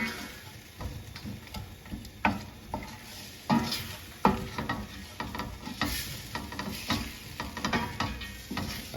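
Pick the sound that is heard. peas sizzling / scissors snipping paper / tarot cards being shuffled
peas sizzling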